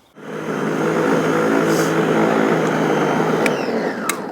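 A Stihl RLA 240 battery-powered scarifier running across a lawn, giving a steady, continuous motor whir with raking rasp, close and loud, with a brief click near the end.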